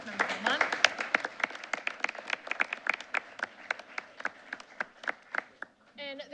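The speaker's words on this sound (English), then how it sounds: "before I turn it over to Mr. Zielinski, another round of applause to all of our students and to our staff members of the month." Light applause from a modest group at a school board meeting, steady scattered claps for several seconds that taper off, with a voice briefly at the end.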